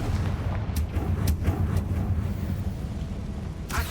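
Confringo fire spell explosions in the video game Hogwarts Legacy, deep rumbling booms with several sharp cracking bursts rolling over a heavy low-end roar.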